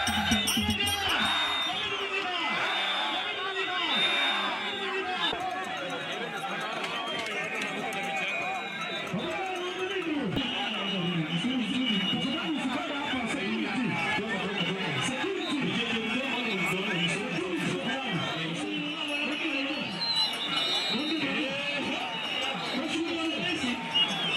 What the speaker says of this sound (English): It's a massive community event, a display of prestige, strength, and loud cheering and crowds shouting.